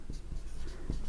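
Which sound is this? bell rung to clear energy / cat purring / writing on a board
writing on a board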